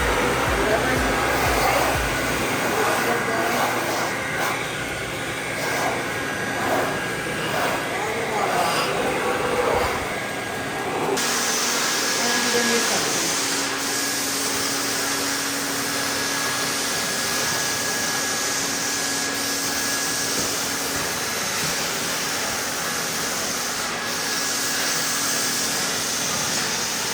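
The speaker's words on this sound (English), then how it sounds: "switch your motor on, and then you may begin to suction your water off the floors, off your walls, or use your blower" The motor of a Sandia Dragon restroom cleaner (80-7000) drones loudly and steadily while suctioning water off restroom floors and walls, a continuous close machine roar with a shift in pitch partway through and talk underneath.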